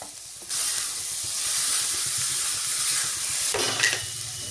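Tomato tipped into sautéed onion in a pan sets off a loud, steady sizzle that swells suddenly and holds with a bright hiss, then briefly surges again near the end.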